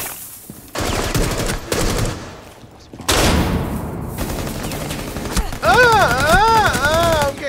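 Rapid bursts of gunfire in Rainbow Six Siege during a terrorist hunt, loud and close in several clusters, with a warbling electronic tone rising and falling near the end.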